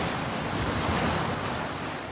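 Steady, continuous roar of sea surf on a windy seafront beside tall buildings, waves washing in with broadband rushing noise and no voices.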